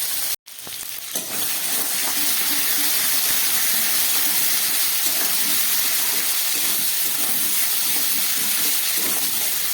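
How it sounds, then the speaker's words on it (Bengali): Green chili paste and half a spoon of ginger paste fry in a pan for a vegetarian cauliflower and soybean curry, a steady close sizzle that runs unbroken after a brief dip at the start, with no talk. "খুব ভালো করে এবার কষিয়ে নেব"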